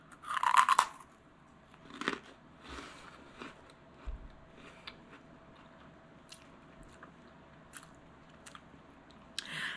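Crisp crunching bites of freeze-dried candy, one loud and close at the start, followed by softer chewing crunches and small squishy mouth sounds.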